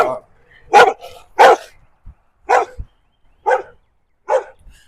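A dog barking loudly and close on a street, giving about six sharp, spaced barks with short pauses between them.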